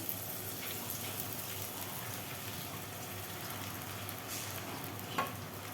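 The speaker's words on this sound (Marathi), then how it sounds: "कांदा आणि टोमॅटो चांगला भाजून झालाय तेलामध्ये. त्यानंतर हे भिजवलेले चुरमुरे टाकायचे." Soaked puffed rice goes into a pan where onion and tomato are frying in oil. A quiet, steady sizzling hiss continues throughout, with one brief clink near the end.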